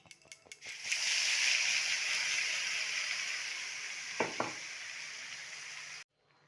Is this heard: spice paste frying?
yes